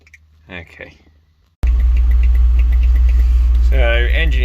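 A BMW E36 convertible engine running at idle, a loud, steady low rumble that starts abruptly after a short stretch of talk. A voice speaks again over the drone near the end.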